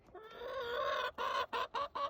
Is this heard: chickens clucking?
yes